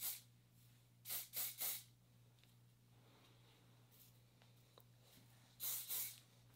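Living Proof Flex hairspray is sprayed onto hair in short hissing bursts, a quick group of three followed later by two more, close over a quiet background hum.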